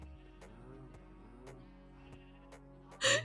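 A Minecraft cow lows in drawn-out, wavering calls, with several sharp game clicks at regular intervals and a loud burst at the end; the sound is fairly quiet and close.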